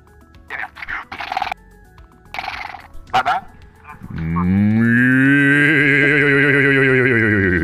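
After a few seconds of brief bursts of noise, a voice imitates a cow with a single sustained, deep, throaty moo that runs loud and steady to the end.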